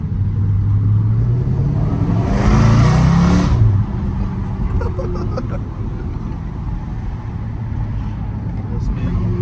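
A 2022 Dodge Charger Scat Pack engine accelerates hard, a loud rising roar building to a peak and then settling into a steady drone, with people talking excitedly over it inside the car.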